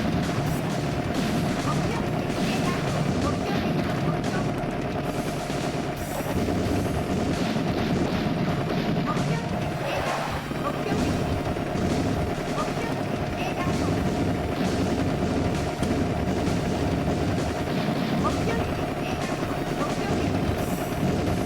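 Continuous rapid gunfire and explosions from the Metal Hawk arcade helicopter shooter on PS4, a dense steady barrage with a sustained mechanical drone underneath, no talking.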